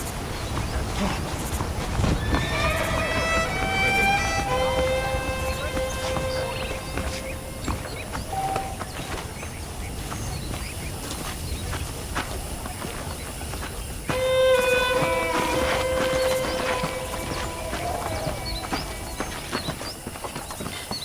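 Steady clip-clop of saddled horse hooves at a walking pace in Red Dead Redemption, with background music and occasional game sound effects layered over it.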